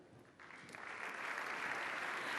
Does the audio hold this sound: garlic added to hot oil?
no